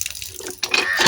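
Water from a hand pump gushes out in a sudden splashing burst after a short quiet moment, close and fairly loud.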